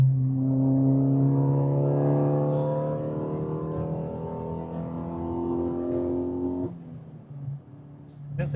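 A modified Mazda Skyactiv 2.0 engine revs hard toward 7,200 RPM with a steady rising drone, holds high, then drops sharply near the end as a gear changes and pulls again.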